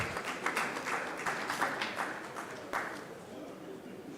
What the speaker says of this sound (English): Please clap for him. Clap for him.